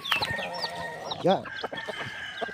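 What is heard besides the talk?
pet chicks clucking while being fed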